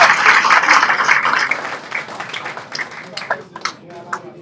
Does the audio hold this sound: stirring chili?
no